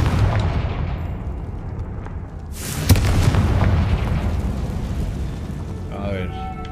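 A Confringo spell blast in Hogwarts Legacy fires as a sharp burst then a deep explosive boom with rumbling aftermath, amid steady background noise and someone talking.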